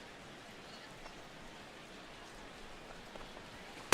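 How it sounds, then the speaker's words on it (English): Steady rain falling over a baseball stadium in the video game MLB The Show 16, a soft, even hiss of fine drops throughout at low level, with no other clear sounds. "the rain continues to fall here"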